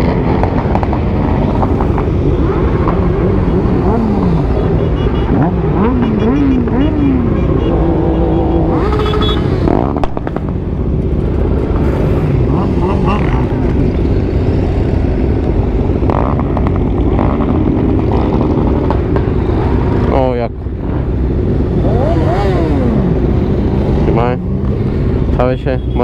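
A column of motorcycles, BMW, Honda, Kawasaki and Suzuki, rides past at a 2021 motorcycle season opening, with loud, continuous engine roar and revving rising and falling. People talk over it.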